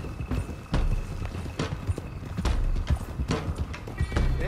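Horses galloping as an outlaw gang rides off in the video game Red Dead Redemption 2, a rapid rolling clatter of hooves on dirt, close and continuous, with a whinny and faint voices in the background.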